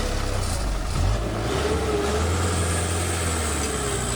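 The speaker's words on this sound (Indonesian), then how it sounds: "Akhirnya, mesin truk kembali hidup, perlahan dipindahkan, memberi sedikit ruang untuk dilewati" A truck engine runs on a narrow rocky off-road trail where a Land Cruiser 80 Series waits, a steady low drone with a brief swell in revs before settling into an even hum, no voices.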